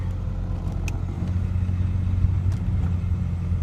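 Grandpa's old truck labors uphill with a steady low engine drone and rumble under heavy throttle, continuous and close throughout, with faint cabin noise and no talking.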